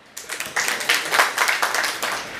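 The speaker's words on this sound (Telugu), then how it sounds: "ఒక్కసారి అందరం ఆయనకు చప్పట్లు కొడదాం" Audience clapping at a Telugu gathering in Medchal Malkajgiri, a steady patter of many hands lasting a couple of seconds, moderately loud and even, with no voices over it.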